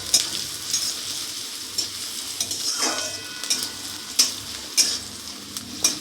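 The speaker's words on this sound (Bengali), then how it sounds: "সবগুলোকে আমি ভালো করে নাড়াচাড়া করে নেব।" Chopped chilli, garlic and ginger frying with onion in a pan for a chickpea-flour litti chokha snack, with a steady sizzle and repeated clinking scrapes of a spoon against the pan, close and without talk.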